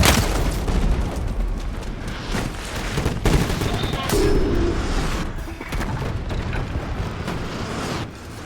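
Rumbling artillery blasts and gunfire from a Call of Duty Modern Warfare multiplayer beta match, a dense, continuous barrage of booms and bursts with no clear pauses across the whole stretch.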